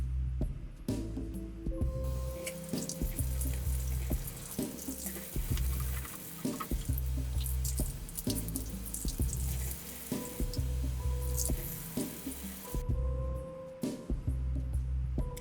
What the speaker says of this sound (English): Next, I'm opening up a can of garbanzo beans. And then rinsing them off.